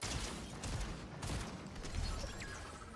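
Distant gunfire in a shooter video game played during a mini tournament: a dull, noisy spread of shots and bursts that recur over a steady background, with no voices.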